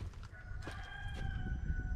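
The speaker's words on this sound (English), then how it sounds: "These damn birds will fuck up a video real quick." Rooster crowing outdoors, a brief clear cock-a-doodle-doo over low rumbling background noise, moderately distant.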